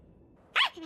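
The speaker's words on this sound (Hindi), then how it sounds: "ये तो साकुरागी परिवार का कुत्ता है" A dog gives one short, sharp bark or yip, fairly loud and close, after a near-silent moment, in an episode of a Japanese anime series.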